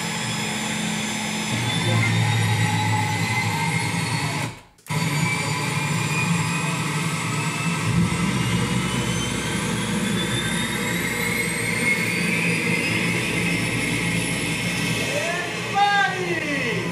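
An engine roar inside or beside a helicopter at a skydiving event, a loud continuous whine and rumble with a brief cut near the middle, then resuming steadily to the end.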